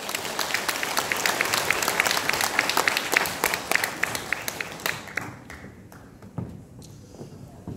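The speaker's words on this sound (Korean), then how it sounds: "힘찬 박수 부탁드립니다." A large crowd gathered in a church hall in Namdong-gu, Incheon, claps vigorously and continuously, a dense patter that thins and fades toward the end.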